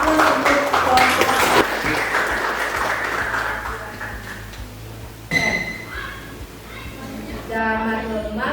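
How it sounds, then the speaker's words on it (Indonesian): A classroom audience claps for a student group during a teaching practice lesson, a dense burst of applause at the start that fades into murmuring room noise and voices. "kita kasih aplaus untuk kelompok"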